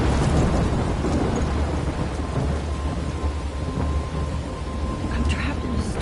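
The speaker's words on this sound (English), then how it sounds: "I'm trapped in a storm?" Heavy thunderstorm in a video game, with steady, dense rain and low rumbling thunder filling the scene continuously at close range.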